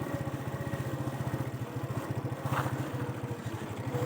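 A motorcycle ridden on a snowy mountain road, its engine chugging in a fast, regular low pulse at moderate volume, steady throughout with a slight swell partway.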